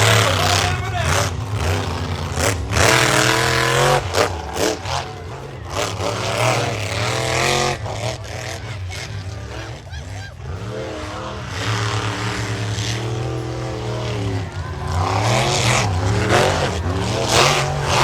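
Monster truck engines roar and rev continuously at an outdoor show in Mt. Pleasant, Michigan, a loud, steady drone with repeated surges as two trucks race side by side, with an announcer's voice over it.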